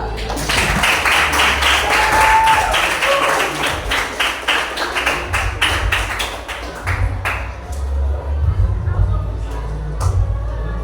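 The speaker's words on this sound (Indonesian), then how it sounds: "Hadirin sekalian, selamat menyaksikan dengan memberi tepuk tangan yang meriah." Audience clapping before a poetry reading on education at a school: crisp, separate claps from a small group, strong at first and then thinning into scattered taps that fade out, over a low background hum.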